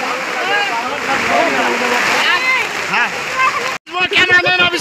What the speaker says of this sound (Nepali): ल पुरा ताबडतोड तुफान आएको छ।